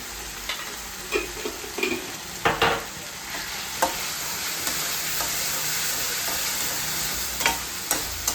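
A spoon stirs turmeric powder into food sizzling in a hot pan. A steady frying hiss runs throughout, broken by several sharp scraping taps of the spoon against the pan. Nobody speaks.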